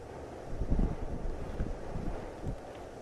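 A gust of wind buffets the microphone in rough, low rumbling bursts on a Pyrenees mountain outing, rising and easing over a few seconds.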